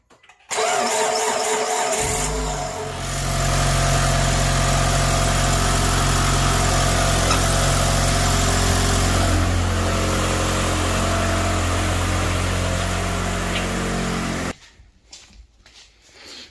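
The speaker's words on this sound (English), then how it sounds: "I'm gonna start the engine." A 2.4L Mitsubishi Outlander engine with a fluid leak and smoke cranks and catches, then settles into a steady, loud idle with a low rumble that continues for several seconds before shutting off.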